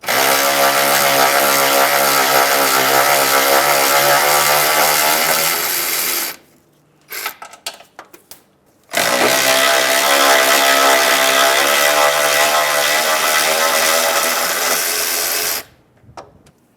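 A power tool removes two 14mm sway bar bushing bolts on a 2011-2017 Honda Odyssey. Each bolt gets a long, loud, steady whirring burst, with a short pause between the two runs.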